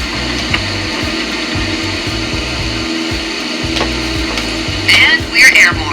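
Small airplane engine at full power during the takeoff roll, a steady loud cockpit drone with low throbbing pulses that runs unbroken throughout, with a couple of brief higher-pitched chirps near the end.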